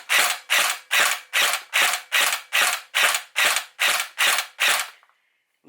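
A stock G36 gel blaster fires Alpha Kings gel balls in twelve evenly spaced, sharp shots at a steady rhythm, loud and close, followed by a faint mechanical whir as it stops.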